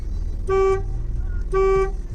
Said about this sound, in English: And the horn sounds better in the Golf as well.